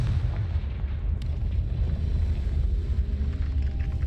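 A Confringo spell explosion in Hogwarts Legacy, heard as a heavy booming rumble with a sharp crack near the start that rolls on loudly and without talking.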